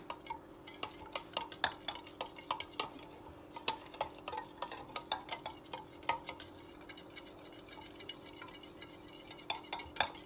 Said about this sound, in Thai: คนนะคะ คนให้เข้ากัน